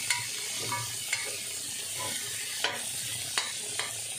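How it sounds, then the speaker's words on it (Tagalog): Garlic, onion and tomato sauté in a pan with a steady soft sizzle, broken by a few sharp scraping clicks of stirring, fairly quiet and with no talking. "Gisa-gisa lang natin ng konti muna para magisa yung bawang, saka sibuyas, kamatis."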